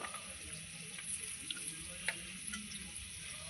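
Onions drop into hot oil and fry for a mutton curry, giving a steady, soft sizzle with occasional light clicks of a stirring spoon, no voices.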